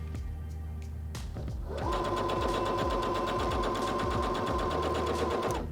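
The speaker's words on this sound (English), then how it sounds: "I'm going to put my presser foot lifter down and I'm going to sew." Heavy Duty HD6605C sewing machine sewing fabric: after a few clicks, a steady rapid stitching whir starts and runs continuously for about four seconds, close and clear without talk.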